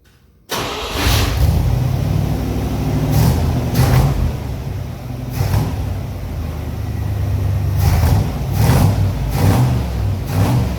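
A 1967 Corvette engine cranks and fires up after a brief silence, then rumbles loudly nearby with several sharp revs over a rough idle.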